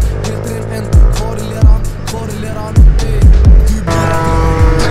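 Dutch moped ridden with an open exhaust: a loud, raspy engine note holds steady while riding, broken by repeated bumps or gear-change thumps, close and continuous for the whole stretch.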